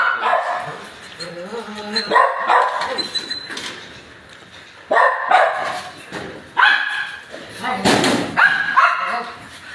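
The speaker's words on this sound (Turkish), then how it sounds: "Yine bu da arama kurtarma köpeğimiz Melo." Melo, a search and rescue dog used in earthquakes, gives several sharp barks and yips in bursts, close by, amid a person talking and a slam-like knock.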